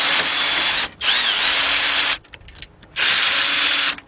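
A power drill with a 5/16 socket spins in two bursts, each about a second long, with a short pause between them. Fainter rattling follows as bolts are tightened on a 2001 Lincoln LS 3.0.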